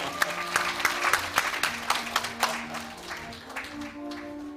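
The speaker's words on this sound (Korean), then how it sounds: "앞으로 더 많이 써주시라고 큰 박수 부탁드리겠습니다" Seminar audience at the FKI building claps in a burst of distinct, fairly close hand claps that thin out toward the end, over sustained background music.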